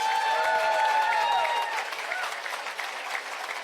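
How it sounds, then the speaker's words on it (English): Audience at the 2017 SNP convocation applauding the graduates, a dense, steady wash of clapping with some cheering that is loud at first and eases slightly toward the end. "let's give a big round of applause for all of our 2017 graduates"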